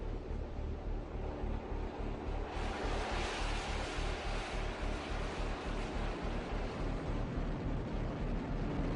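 Torrent of geothermal steam roaring from a drilled well tapping water at 300 °C or hotter, a loud, continuous broadband rush that swells after a couple of seconds and holds steady throughout.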